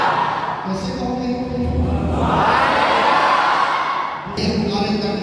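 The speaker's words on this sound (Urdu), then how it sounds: "یہ نعرے تکبیر اور نعرے رسالت سے ہمارے حضور مرشد اللہ کا استقبال کرتے ہیں۔" A large crowd at an Eid gathering raises the Islamic slogans Nara-e-Takbeer and Nara-e-Risalat in loud, unified rhythmic shouts that swell into a sustained roar, with a leader's voice cueing between them.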